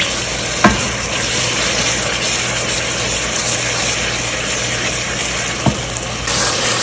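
Tomatoes with ginger garlic paste fry in a pot with a loud, constant sizzle close by, broken by a couple of sharp spoon knocks against the pot as the mixture is stirred.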